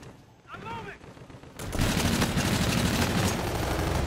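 Rapid automatic gunfire erupts in a video game, a dense, sustained burst of loud shots following a brief quieter moment with a short tonal effect.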